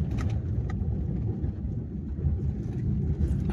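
A car travels along a newly laid road, its engine and tyre rumble steady and close throughout, with no talking.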